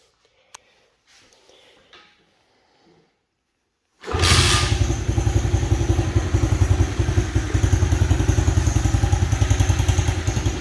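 An SSR 110 pit bike is kick-started after a few quiet clicks and handling sounds, then its small single-cylinder engine catches and runs with a steady, fairly quiet rhythmic putter close by.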